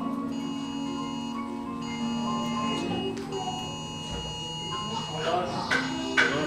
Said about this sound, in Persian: تلفن‌هاتون لطفا خاموش بکنید، هم پرده نمی‌کنه، حالا آلارم می‌زنه